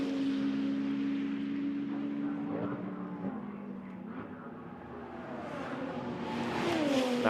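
GT2 race cars at Imola heading up toward the line, engine notes droning and shifting pitch as they pass, one car swelling louder near the end, heard at moderate distance with no commentary.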